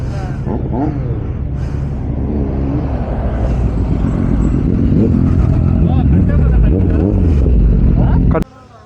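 A car drives past on a hilly road during a superbike road trip, its engine loud and close, rising in a sustained roar before cutting off abruptly, with voices faintly underneath.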